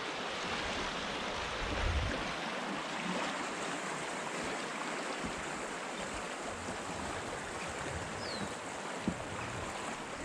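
Steady broadband rush of a river flowing past a riverbank, continuous and fairly loud throughout with a faint low wind buffet early on, no voices.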